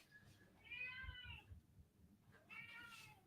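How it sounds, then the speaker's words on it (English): A house cat meows twice near feeding time, two drawn-out, rising-and-falling cries separated by a short pause, fairly faint against low background rumble. "sitting there and meowing at me"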